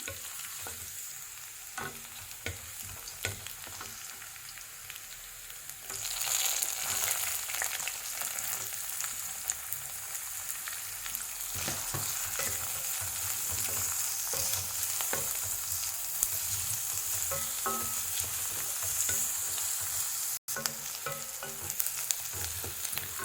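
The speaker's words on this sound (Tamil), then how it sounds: "இஞ்சியும் பூண்டையும் கொஞ்சம் நல்லா வதக்கிட்டு நமக்கு வெங்காயம் போட்டு வதக்கலாம்" Ginger and garlic, then onion, sauté in a pan with a continuous sizzle that swells louder after a few seconds and keeps up, dotted with light scraping from stirring; no voices.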